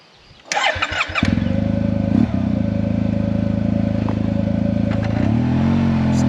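A 2022 Yamaha TMax 560 scooter cranks over briefly with a whirring starter, then fires and settles into a steady, close idle with a throbbing low rumble and light mechanical clatter.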